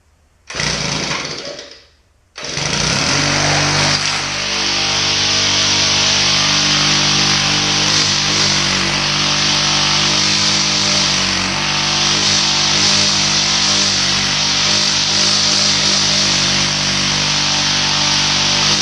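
A Shindaiwa string trimmer, used commercially for two years, coughs briefly on a pull, stalls, then fires up and runs steadily at a loud, buzzing idle close by with no talking.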